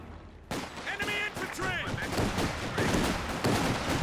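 Mass small arms gunfire crackles in a Company of Heroes 2 2v2 match, dense overlapping bursts starting abruptly and running steadily under a speaking voice.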